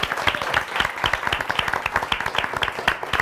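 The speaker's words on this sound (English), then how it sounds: "Can we have another round of applause for him?" An audience claps together in a steady round of applause for performer Matt Hamlin at a spoken word show, close and fairly loud, with dense overlapping hand claps continuing throughout and no voices above them.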